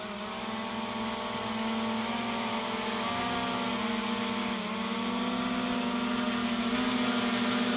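A drone flies low through thick morning fog with its propellers wet, giving off a continuous whining buzz whose pitch wavers slightly as it moves. The sound is steady and moderately distant, with no voices.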